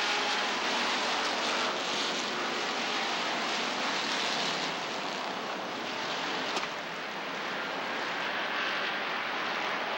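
Race cars roaring past at the start of a bracket race at Rockford Speedway in Rockford, Illinois, a loud continuous engine wash that swells and holds for the whole stretch.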